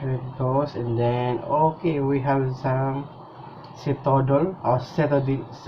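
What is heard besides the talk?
None of the usual background noises is heard.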